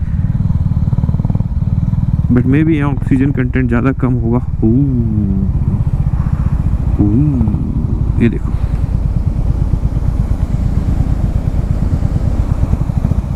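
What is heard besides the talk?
motorcycles climbing a steep mountain road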